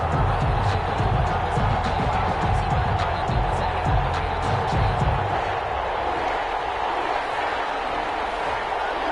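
Stadium crowd noise in an EA Sports NFL video game before a Detroit Lions at New Orleans Saints matchup, a steady loud roar with dense chatter-like murmur throughout, low rumbling surges early on.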